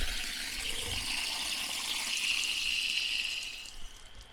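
Water rushing from a pipe as the main supply is turned on during a water pipe installation, a steady hissing flow with a thin squeal rising partway through, then easing slightly toward the end.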